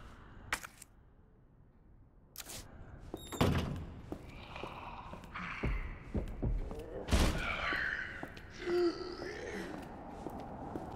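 An enemy stomps through a door in the Resident Evil 2 video game. Scattered heavy thuds and bangs ring out at intervals, some sharp and loud and others muffled and distant, with soft game ambience between them.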